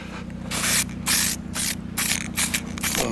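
Spray paint hisses from an aerosol can in several bursts of about half a second each, separated by short pauses, close and loud over a low background hum.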